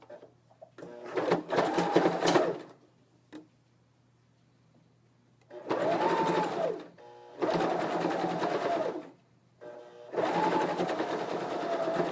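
A sewing machine stitches sleeves onto a garment in four loud, close bursts of rapid mechanical whirring and clatter, separated by short pauses, with a low steady hum in between.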